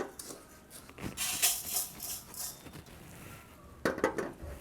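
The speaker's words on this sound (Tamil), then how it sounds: "இப்போ வறுக்கும் போதே பாருங்கள், எல்லா அவலுமே பொரி மாதிரி ஆயிடுச்சு" Red poha (flattened rice) dry-roasting in a pan for laddu, with scattered light scraping, rustling and clinking as the flakes are stirred and puff, fairly quiet and close, louder bursts near the end.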